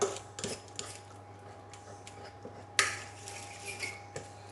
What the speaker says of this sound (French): On remélange les épices, l'huile d'olive.